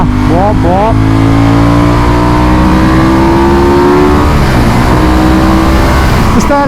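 A motorcycle engine revving hard, loud and close, with rising whines climbing through gear changes and then holding a steady high drone, accompanied by constant rumble and wind noise.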